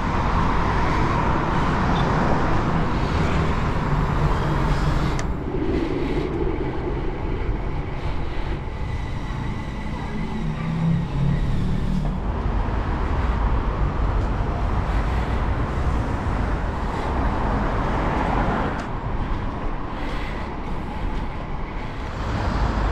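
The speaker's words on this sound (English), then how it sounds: "Very busy roundabout in Wandsworth." Loud, continuous roar of cars and heavy vehicles circling a busy roundabout in Wandsworth, London, heard close up from a cyclist's position, with engine swells and passing vehicles throughout and no talking.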